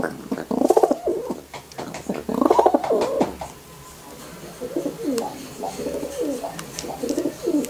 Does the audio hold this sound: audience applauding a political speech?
no